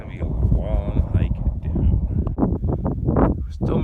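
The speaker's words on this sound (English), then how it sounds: "Damn, it is windy up here." Strong wind on the Mount Washington summit buffets the microphone in rough, gusty rumbles, while a person talks over it nearby.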